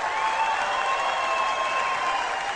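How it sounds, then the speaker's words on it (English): A NASCAR crowd cheers and applauds in a steady, sustained wash of noise, with a few faint whistles riding over the roar. "NASCAR crowd."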